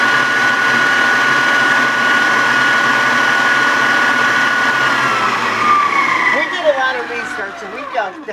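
A Farberware stand mixer motor runs as a loud, steady whine with a high tone, then winds down near the end into sliding pitch sweeps and a few knocks as speech begins over it.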